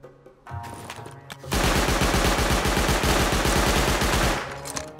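Rapid automatic gunfire from a sentry turret in the game Rust, a loud sustained burst of evenly spaced shots lasting several seconds before cutting off.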